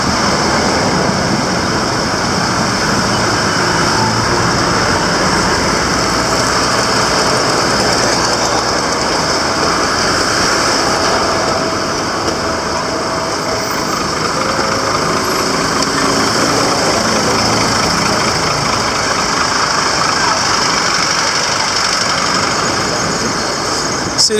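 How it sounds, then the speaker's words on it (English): Steady, loud engine drone of road traffic on a main highway in the Gambia, a continuous wash of idling and passing vehicles with no pauses. "the traffic."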